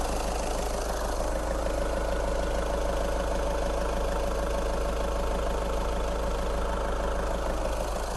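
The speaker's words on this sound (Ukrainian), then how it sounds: "Двигун працює стабільно, явної вібрації немає" A 2011 Volkswagen Golf engine idles steadily with an even, low rumble and faint mechanical ticking, continuous throughout with no voices.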